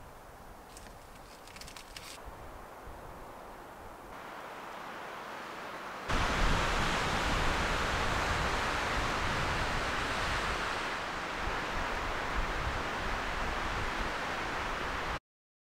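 Wind at a mountain lakeside campsite on Boulder Mountain, a steady broadband roar that grows louder and fuller partway through, buffeting a close microphone with no voices.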